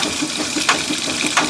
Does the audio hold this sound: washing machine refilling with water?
yes